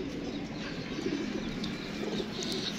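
Kept pigeons coo softly at a loft amid steady background hiss, with faint chirps and a brief flutter, fairly quiet and close.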